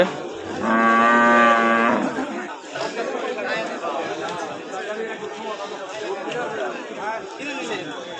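A cow moos loudly once at a cattle and goat market, a long drawn-out call, then a bustle of many voices chattering nearby continues through the rest.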